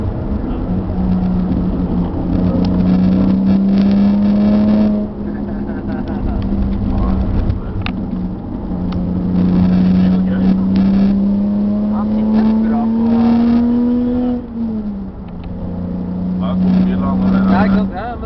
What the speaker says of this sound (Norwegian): Holder bremsen hit, og begynner å gasse.